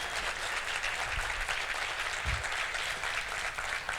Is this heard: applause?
yes